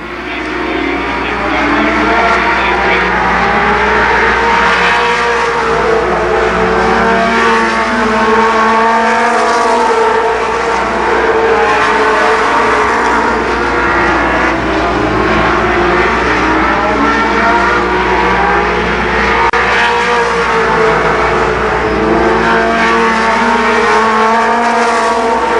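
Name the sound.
race cars racing at Columbus Motor Speedway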